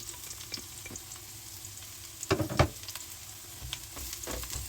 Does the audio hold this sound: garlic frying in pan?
yes